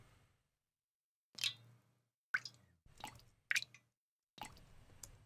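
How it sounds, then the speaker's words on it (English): A water droplet sound effect, used as a sample for drum sounds, plays as five short, separate wet drips and plops spaced unevenly over a few seconds. Each one is close and fairly soft, and no voices are heard. "maybe a water droplet"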